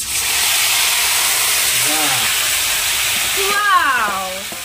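Chicken pieces hitting hot oil with cumin and bay leaf set off a loud, steady sizzling hiss that swells near the end, with voices talking over it.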